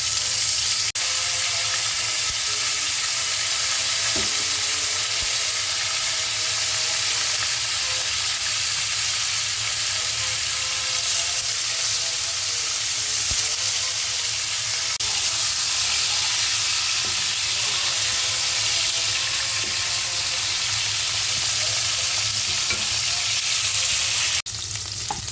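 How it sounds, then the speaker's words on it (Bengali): Cauliflower and koi fish frying in oil in a pan, a steady close sizzle with faint stirring and spatter throughout, no talking. "দেখো এখানে ফুলকপিগুলো হালকা হালকা ভেজে নিয়েছি"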